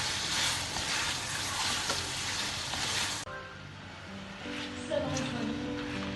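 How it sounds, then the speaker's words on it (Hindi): Mutton pieces frying in a pan for korma give a loud, continuous sizzle that drops sharply about halfway through, leaving a quieter, softer hiss of cooking with faint clinks. "अब मैं इसके साथ इसमें ये गोश्त डाल दूँगी और इसको मैं अच्छा सा भूनूंगी"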